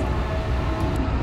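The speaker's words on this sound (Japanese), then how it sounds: "先ほどの京都駅普通の電車発車しております" Low steady rumble of a JR local train pulling out from Kyoto-bound platform at Osaka Station, continuous and moderately loud with no voices.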